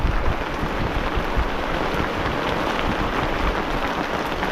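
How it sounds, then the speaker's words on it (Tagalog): Heavy afternoon rain pours down steadily over a vegetable plot of eggplants, a dense, even roar of rushing water that stays loud and unbroken throughout, with no voices. "Bumira na naman yung ulan."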